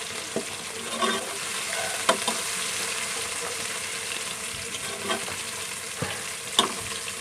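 Garlic and ginger paste frying in a pan toward golden brown gives a steady moderate sizzle, with periodic spatula scrapes and taps every second or so.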